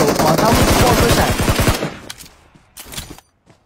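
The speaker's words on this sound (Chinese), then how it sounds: "打了一梭子打中了枪头，往他们爆个闪" A loud, rapid burst of automatic gunfire in the Peace Elite battle royale mobile game, a close rattling volley that stops abruptly and leaves a few faint clicks and thuds.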